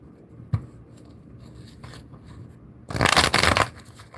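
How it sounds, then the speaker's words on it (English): Tarot cards are shuffled by hand, a brief tap early on followed by a loud burst of riffling and flapping near the end, close and clear with no talk. "Let's get another shuffle."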